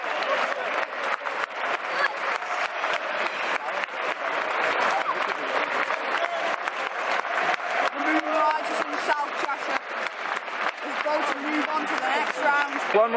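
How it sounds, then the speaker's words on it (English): A football crowd in the main stand at Gresty Road keeps up steady, sustained applause for the players after the match, a dense continuous clatter of many hands with a few voices mixed in. "The Gresty Road, the main stand staying, applauding the lads for the effort."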